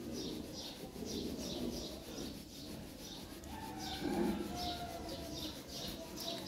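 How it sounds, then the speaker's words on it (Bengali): Pigeons kept for sale coo faintly in low, soft bursts, mixed with repeated light chirps in a quiet loft setting. "এখানে একজোড়া কবুতর আছে একদম ফ্রেশ"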